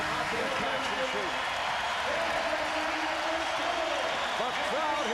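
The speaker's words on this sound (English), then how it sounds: "The crowd here at the New Jersey Meadowlands reacting to this opening quarter by the Nets" An arena basketball crowd at the New Jersey Meadowlands applauds during a Nets playoff game, a steady wash of clapping and murmur at moderate distance, with a commentator speaking over it.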